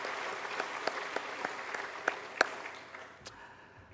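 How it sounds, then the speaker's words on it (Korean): A church congregation at a Sunday afternoon service gives a short round of scattered applause, moderately loud and steady before it thins out and fades near the end. "격려의 박수 한번 보내주시기 바랍니다"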